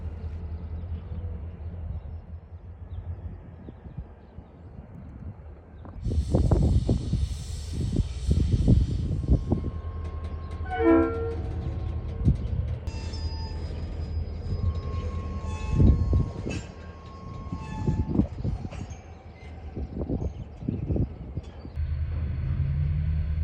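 Freight train on the Siskiyou line, with a low rumble building as cars roll past, metallic clanks and squeals from wheels and couplers, and intermittent knocks over a steady background.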